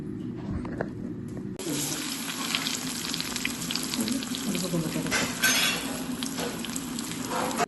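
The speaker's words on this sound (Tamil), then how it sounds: "இப்போ எண்ணெயில் போட்டு பொரிச்சா சரி கட்லெட் ரெடி சாப்பிட்றதுக்கு" Chicken cutlets dropped into hot oil and deep-frying, a loud steady sizzle with crackle that starts abruptly after a quieter opening and fills the rest of the clip, close by with no voices.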